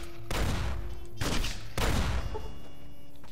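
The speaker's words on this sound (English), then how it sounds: "So let's just launch a grenade over there." The Mercy grenade launcher fires in Fallout: New Vegas, Old World Blues, with three heavy booming launches spaced about a second apart, each followed by a decaying rumble over quiet game ambience.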